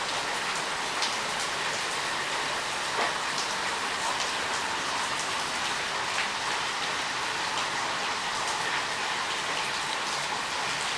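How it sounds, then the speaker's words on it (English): Heavy rain from Tropical Storm Andrea pours down in a dense, unbroken roar, loud and close throughout, with no one talking over it. "It was raining really hard, as you can see."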